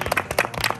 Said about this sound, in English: Let's give them a clap that made it so far.